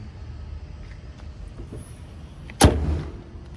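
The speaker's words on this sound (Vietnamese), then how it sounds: "Nghe tiếng đóng mở cốp thôi, nghe rất là êm tai." A 2008 Hyundai Santa Fe MLX seven-seat 2.2 diesel SUV has its trunk lid shut once, a single solid thump against a quiet background.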